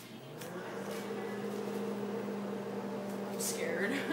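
Microwave oven running with a whole egg in its shell inside, a steady low electrical hum with faint rattling, while people talk softly in the background.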